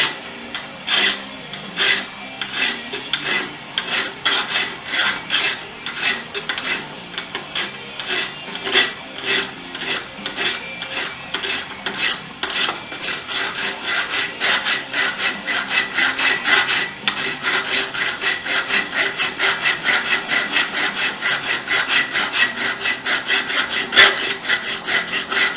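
A metal file rubs back and forth across saw-like teeth while a pipe tomahawk is being made, giving steady, close rasping strokes in a continuous rhythm with no talk.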